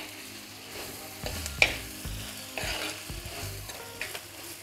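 Whole garlic fries over medium flame in a pan while being stirred, soft steady sizzling broken by several scraping and clinking stir strokes, close and fairly quiet.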